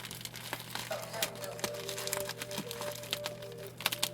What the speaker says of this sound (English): give me just a second to rip this thing open